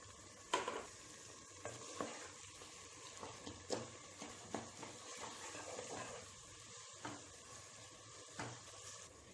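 Minced mutton stir-fried in a pan, with faint sizzling and frying under intermittent scraping strokes of a spatula stirring the meat, quiet and close with no talk.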